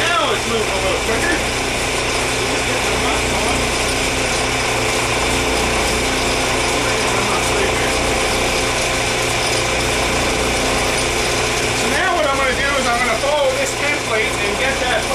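A router lathe runs continuously, its router cutting wood on a turning workpiece, giving a loud, steady mechanical whine with a ratcheting, grinding texture and a slight shift in pitch near the end.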